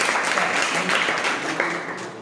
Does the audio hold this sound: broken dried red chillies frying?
no